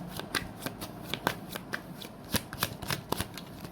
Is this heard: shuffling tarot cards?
yes